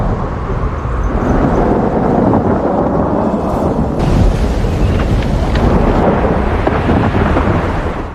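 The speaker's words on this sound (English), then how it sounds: "But they haven't noticed the massive superstorm ahead." Loud, continuous storm roar with deep rumbling thunder and broadband wind noise filling the whole stretch, steady and overwhelming throughout.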